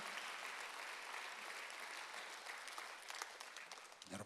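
Congregation clapping during a Sunday worship service at a Korean church: steady dense applause that fills the room from start to finish, then thins and fades near the end.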